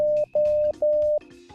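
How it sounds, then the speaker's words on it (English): A game monitor sends a Morse code pattern as clean electronic tones, one short beep followed by longer sustained beeps with brief gaps between them. "1 little beep and 4 long beeps"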